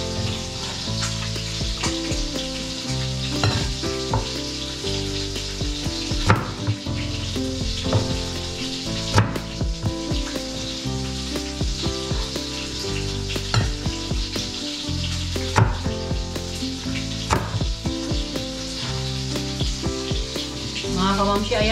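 Salmon frying in hot oil in a pan, a loud, steady crackling sizzle with popping spatters that runs continuously throughout.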